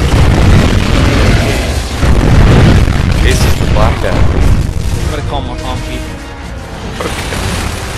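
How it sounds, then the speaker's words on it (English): Heavy, rumbling booms from rocket launcher explosions in Gears of War 3 fill the scene loudly and continuously, with a dense low roar that eases slightly toward the end while voices talk over it. "It's rocket launcher."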